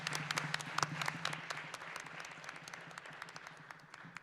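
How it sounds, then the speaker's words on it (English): Modest applause from a small audience at a board of education candidate forum, scattered claps over a low hum, gradually fading. "I want to have the audience please thank them and give them a round of applause."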